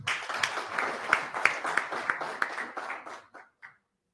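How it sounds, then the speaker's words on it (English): A conference audience applauds: dense, crisp clapping from many hands, lively at first, then thinning to a few scattered claps before stopping into silence. "I think it deserves another round of applause"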